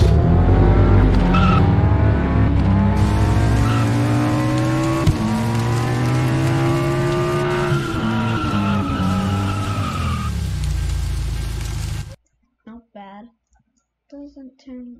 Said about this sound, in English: Next is the Subaru BRZ. I haven't heard the noise this thing makes in a long time